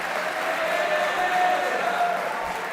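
A crowd at a college athletics awards event applauds, a soft continuous wash of clapping with murmured voices and a faint cheer underneath.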